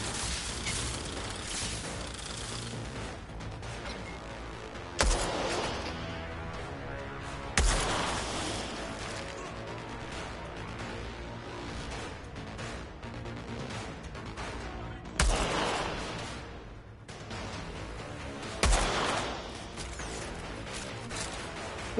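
Weapon fire from a different gun in the co-op shooter Outriders on PS5 rattles in sustained bursts, with sharp loud impacts punctuating the mechanical clatter.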